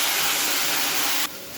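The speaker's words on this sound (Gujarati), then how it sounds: "હવે આ મેથીને તમારે સારી રીતે સાતળી લેવાની છે।" A steady loud sizzle of chopped fenugreek leaves (methi) sautéing in a pan drops abruptly to a quieter hiss near the end.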